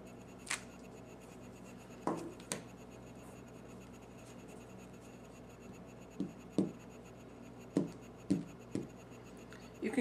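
Soft, separate taps and scuffs of stamps pressed with gesso onto paper, spaced irregularly in a quiet room, with a faint steady background hum.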